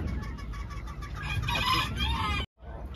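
Hens and turkeys cluck and call at an exotic bird market near Charminar in Hyderabad, a busy close-up chorus of fowl, with a rooster-like crow, that cuts off abruptly near the end.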